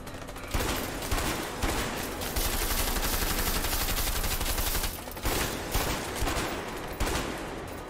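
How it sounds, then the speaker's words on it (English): Machine gun fire in the video game A Way Out, long sustained bursts of rapid shots with brief pauses between, loud and dense. "That's actually smart for the machine gun in this area."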